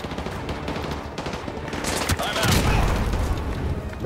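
Dense gunfire and bursts in Call of Duty Modern Warfare 2 Remastered, loud and continuous with a heavier boom near the middle, surrounded by game action without clear talk.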